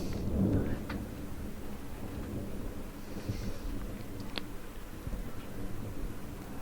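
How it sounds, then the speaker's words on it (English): Steady rain hisses under a low, continuous rumble of thunder during a thunderstorm in north-west England, with no voices, building gently across the stretch. "And now it is starting to rain."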